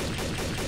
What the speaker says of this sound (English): I'm hearing gunfire and I am frightened.